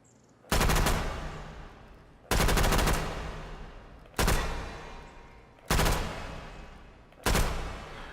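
Five loud, separate bursts of Thompson SMG fire in a VR video game, each about a second long, sharp at the start and tailing off, with no talking.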